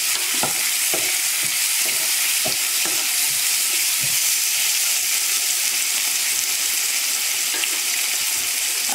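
Onion and tomato sauté in a hot pan for rava kichadi, giving a steady bright sizzle with soft intermittent stirring scrapes, fairly close, no voices.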